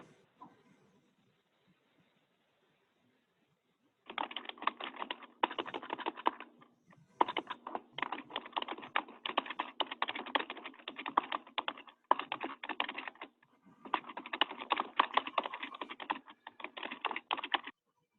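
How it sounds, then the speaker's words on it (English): Rapid typing on a computer keyboard by a congressman waiting to connect to a remote town-hall call, steady clattering keystrokes in several bursts with short pauses, fairly close and alone after a quiet start. "You hear him typing."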